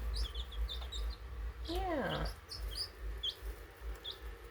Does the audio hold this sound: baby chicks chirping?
yes